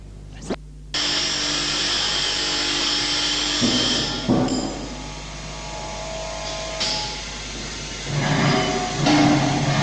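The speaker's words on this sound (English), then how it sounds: "Here we have Liam Irwin using the electric grinding machine." An electric grinding machine runs at a vocational school, a loud steady high-pitched whine with brief stops and restarts and shifts in pitch as it works, with no voices.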